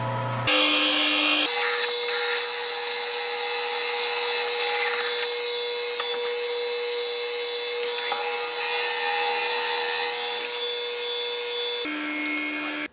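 A half-inch bit bores through a cocobolo wood pen blank, giving a loud, steady, high-pitched mechanical whine and grinding drone that holds for about ten seconds before winding down.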